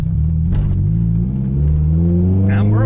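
A Lotus Elise S3 pulls away from inside the cabin, its engine a loud, close rumble that rises steadily in pitch as it accelerates, with a brief voice partway through.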